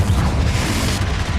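A spell explosion in the video game Hogwarts Legacy lands as a loud, deep boom with a rumbling tail that fills the whole brief moment.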